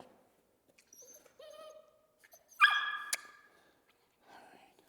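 A puppy gives a sharp bark on cue during target training, preceded by soft whines and faint squeaks, with quieter vocal noises after; close and brief.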